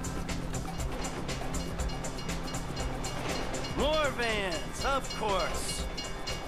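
In Grand Theft Auto V a train rumbles past with a steady clattering roar throughout, and rising and falling squeals or horn-like tones come in near the end while a voice speaks.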